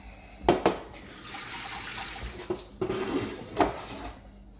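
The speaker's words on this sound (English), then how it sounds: "I'm now going to put some cold water on them so they can clean." Cold water runs from a tap into a sink in uneven splashing bursts, with a few clinks of dishes close by.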